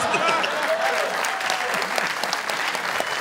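A live comedy roast audience claps loudly and continuously, a thick wash of hands with scattered cheers, close and sustained throughout.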